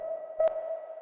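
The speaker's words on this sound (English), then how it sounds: "We unmute the reverb." A synth tone in Ableton with plate reverb and slap delay just unmuted: a steady sustained note plays throughout, with one brief brighter plucked accent near the middle ringing into a washy tail.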